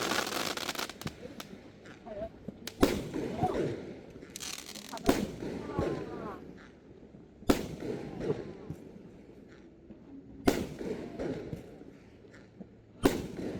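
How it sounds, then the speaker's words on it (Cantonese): Fireworks burst again and again at irregular intervals over Shuangyue Bay in Huizhou, China, each loud crack followed by crackling, while people talk and exclaim in the background. "欣賞煙花"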